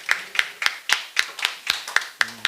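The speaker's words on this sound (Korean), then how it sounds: "우리 박수로 환영하도록 하겠습니다" A church congregation claps together to welcome singers for a special hymn: about nine crisp, evenly spaced claps in a steady rhythm, fairly close, with no talking.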